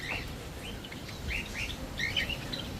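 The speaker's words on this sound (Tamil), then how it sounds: "இங்கே பாருங்கள் குருவிலாம் எவ்வளோ குருவி இருக்குண்டு" Sparrows chirp at a seaside resort: several short, bright tweets scattered through the clip, moderately close, over a steady soft background hiss.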